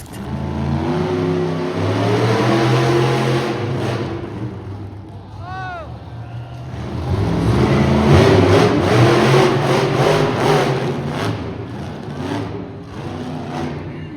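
Monster truck engine revving at an afternoon motorsports show in Edmonton, Alberta, swelling and easing in long, loud surges while an announcer talks over the arena sound system.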